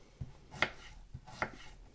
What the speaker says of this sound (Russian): Я вот нарезаю такими крупными дольками.